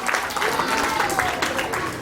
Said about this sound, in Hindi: उसके लिए विशेष तालियां बजाएं